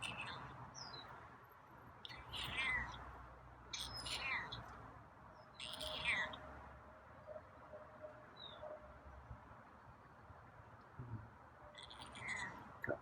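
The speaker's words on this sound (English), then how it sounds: "Got quiet meows again." A feral cat named Scruffy gives several faint, high, short meows at irregular intervals over a soft outdoor background.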